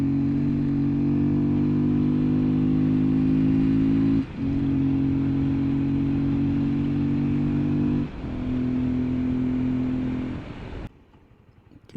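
A motorcycle engine drones steadily while riding a rough road toward Malshej, a loud, constant low hum with wind noise that dips briefly twice and fades near the end.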